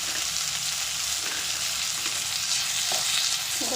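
Chopped onion, tomato and green chilli sizzle together in a hot pan, a loud, continuous frying hiss with faint stirring.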